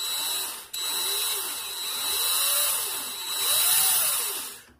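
Power drill spinning steadily to twist coil wire for a three-core staggered fused clapton vape coil, a continuous close motor whine with slight rises and dips in pitch and a brief dropout near the start.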